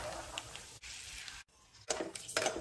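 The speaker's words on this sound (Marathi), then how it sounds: "गरम तेलात लगेच ते खरपूस तळलं जातं" Cashews, dal, peanuts and almonds fry together in hot oil for Haldiram-style rava chivda, giving a steady broadband sizzle with a few clinks of a utensil against the pan and a brief lull midway.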